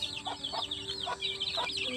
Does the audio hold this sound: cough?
no